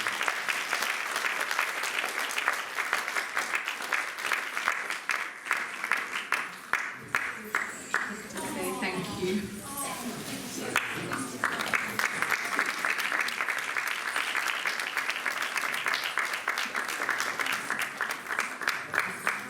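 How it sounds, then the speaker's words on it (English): Audience applause at a Leeds birthday celebration gathering, sustained dense clapping filling the room for most of the stretch, easing briefly in the middle before swelling again, with a voice speaking a brief thanks. "Another round of applause."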